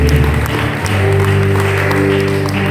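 A church congregation at a young adults' service in Surabaya claps and cheers together, a dense, loud wash of applause with sustained musical tones ringing beneath.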